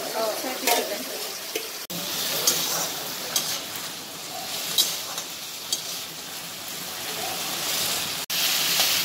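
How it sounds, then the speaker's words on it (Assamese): Bottle gourd frying in a pan with mustard seeds, a continuous bright sizzle with intermittent stirring scrapes and clinks, fairly close, while someone talks briefly at the start. "সৰিয়হ দুটামান ফুটাই লৈছে ন সেইখিনিতে লাওখিনি দিছে ন"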